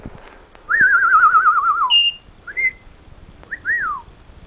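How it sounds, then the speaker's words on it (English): A bird whistles clearly up close: a long warbling trill, then a few short rising and falling whistled notes with brief pauses between. "Come on, whistle for the camera, honey."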